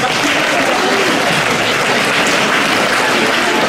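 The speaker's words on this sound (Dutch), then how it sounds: "Even applaus." A hall full of city staff applauds steadily at the 2019 New Year reception of the City of Lier, a dense, even wash of many hands clapping for nearly four seconds with no let-up.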